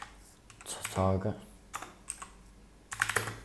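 Clicks and clatter of typing on a new computer keyboard come in irregular bursts, close and fairly quiet, mixed with someone talking.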